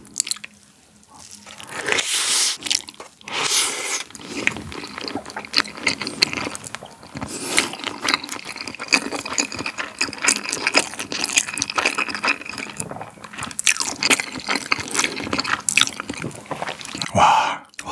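Close-up eating of soy sauce marinated crab, salmon and Spam with rice. The wet squishing, slurping and chewing is continuous, with crunchy bites and sticky mouth sounds, and no talking.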